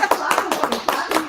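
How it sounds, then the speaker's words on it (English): Audience clapping at a spiritual expo in Dublin, a scattered burst of hand claps across a crowd, fairly close and steady for a moment, with voices mixed in. "You guys can clap."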